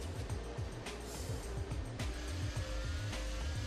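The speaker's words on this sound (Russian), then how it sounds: "Это динамометр. И это один из самых важных тестов. Он моделирует самое сильное торможение." A Brembo brake dynamometer test bench in a laboratory simulating the hardest braking, giving a steady mechanical whir with rapid rhythmic low pulsing and faint intermittent clicks, fairly quiet and continuous.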